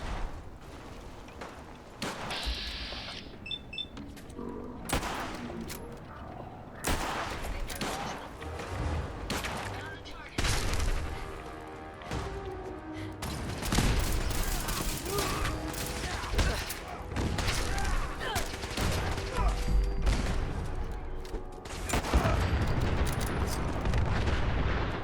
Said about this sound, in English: Yeah, someone's shooting at me.